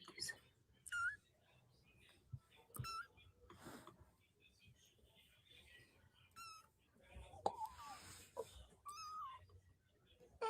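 Tiny kittens mew in thin, high squeaks, scattered and faint, with quiet rustling and soft background sounds between the cries.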